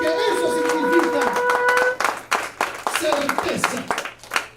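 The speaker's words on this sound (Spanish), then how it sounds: "Dale una ofrenda de palmas a Dios" A church congregation claps their hands together as an offering to God, dense clapping that swells and then breaks into scattered claps, mixed with crowd voices and a speaking preacher.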